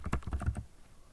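Rapid keystrokes on a Chromebook keyboard as a shell command is typed, a quick burst of about half a dozen close clicks followed by quiet.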